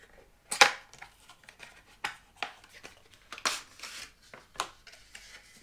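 A cardboard phone case is unboxed up close, with a string of crisp crinkles, taps and rustles of packaging coming in short irregular bursts.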